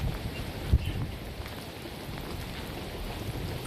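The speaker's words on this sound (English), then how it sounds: "We're seeing some really strong rain and winds here in Anderson County." Strong rain and wind from Hurricane Helene in downtown Anderson, Anderson County, a dense steady hiss of rain with gusty rumble and one brief low thump, no voices.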